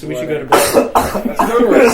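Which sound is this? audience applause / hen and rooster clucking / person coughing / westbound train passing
person coughing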